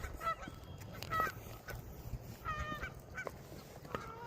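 Geese honk repeatedly around a fishing lake, a series of loud, harmonically rich calls in irregular bursts against quiet outdoor background.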